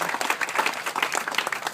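Brief scattered applause breaks out at an outdoor cookout for a band, moderately distant and short-lived.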